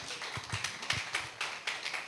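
Small audience clapping at an academic event, scattered uneven claps at moderate distance, thin and brief rather than a full ovation.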